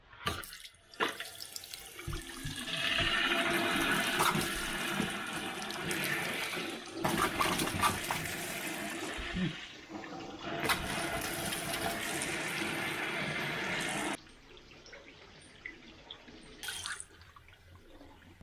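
Sink taps running, a strong rushing flow of water that swells, dips and resumes over many seconds, then drops to lighter trickling and drips near the end, without any speech.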